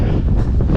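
Wind blows hard on Mt Timbac, buffeting the microphone in a loud, gusty roar that swells and dips over a moment, with no voices.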